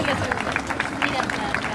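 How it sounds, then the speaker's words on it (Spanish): Crowd applause greeting schoolchildren marching in a 25 de Mayo parade in Arroyito, steady distant clapping and crowd noise mixed with an announcer's voice over a loudspeaker. "El aplauso para recibir"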